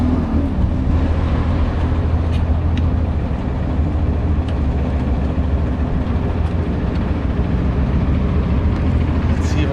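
A Datsun 240Z that sat for three years runs rough and loud nearby, a dense, steady low engine drone with a faint rattle and occasional clicks, heard alone without talk.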